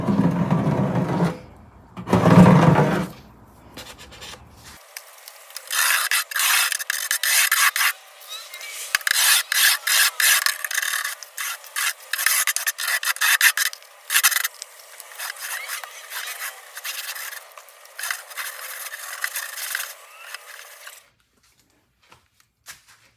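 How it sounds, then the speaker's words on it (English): A metal storage box from Buddy Products is scraped to strip off its paint, giving a long run of harsh, rhythmic rasping strokes close up, with a brief low thud at the start and a quieter trailing stretch at the end. "I'm just trying to get all the paint off of it that I can."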